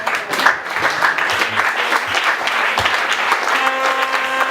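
A church congregation applauds and cheers in acclaim of the Lord, a dense, steady wash of clapping from many hands that carries on without a break, with a few voices rising over it near the end.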